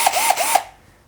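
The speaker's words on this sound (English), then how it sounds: "I'm going to drill a hole." A power drill bores a hole, giving three short rising whirring bursts close by, each starting and stopping quickly before the room goes quiet.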